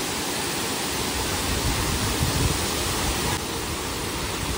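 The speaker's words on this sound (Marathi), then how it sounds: "आणि हा बघा सावडाव धबधबा" The Savdav waterfall flows in a steady, loud, close roar of rushing water, an even broadband wash with no pauses and no voices.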